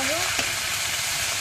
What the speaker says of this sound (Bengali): দিয়ে আমি সবজিগুলো একটু ভালো করে ভেজে নেবো।